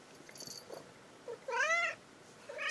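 A cat purring softly, then giving a clear, close meow, followed by the start of another short meow at the end in a quiet room.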